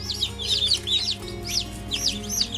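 A group of newly hatched chicks in a homemade incubator peep continuously, high thin chirps overlapping close by with a faint hum underneath.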